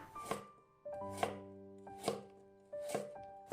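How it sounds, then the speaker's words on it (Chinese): A knife chops half a carrot into thin slices on a board, four crisp evenly spaced cuts landing about once a second, close and clear with nothing else audible. "准备半根胡萝卜，先切成薄片"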